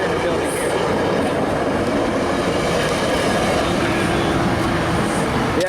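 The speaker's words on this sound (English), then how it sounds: "Southbound train to Miami International Airport." A southbound train bound for Miami International Airport passes close by, loud and sustained, with rhythmic clickety-clack from the wheels and a brief squeal near the end.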